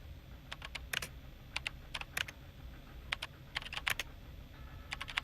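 Bursts of clicky keystrokes on a computer keyboard while playing the space game Event[0], coming in quick irregular clusters with short pauses between them, close and fairly quiet, with no voices.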